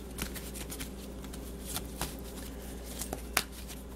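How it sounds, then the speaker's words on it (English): Tarot cards of a Rider-Waite deck being shuffled up close, a steady soft riffling patter with a few sharper flicks, with no talking. "I am just finishing up my shuffle"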